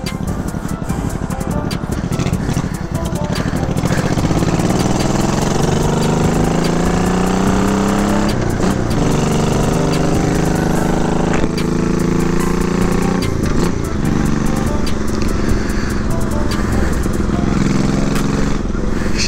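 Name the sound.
1987 Honda Shadow VT700 motorcycle engine idling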